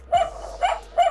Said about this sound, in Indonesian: Anjing pudel.